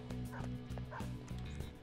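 A dog enemy in Persona 5 Royal gives short repeated yips and barks over steady looping game music, quick rhythmic bursts mixed into the soundtrack.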